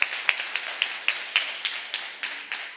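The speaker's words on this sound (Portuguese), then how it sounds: "pedir uma salva de palmas aqui para nossas companheiras" A few people clap at a community care talk, sparse rhythmic claps about every quarter second, close and moderately loud, with no talking.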